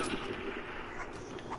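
Dense, loud gunfire in a Call of Duty: Black Ops III multiplayer match, where a player fires a pistol. The shots blur into a steady, continuous barrage with no clear gaps between them.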